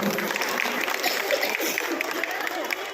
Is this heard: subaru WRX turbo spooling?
no